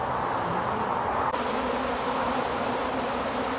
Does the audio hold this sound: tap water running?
no